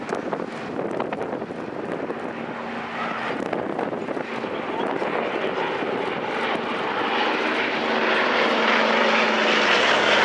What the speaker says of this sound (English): he's flying MK356, which is a silver coloured Mark 9